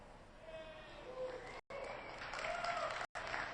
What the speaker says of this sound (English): It's good to hear that applause.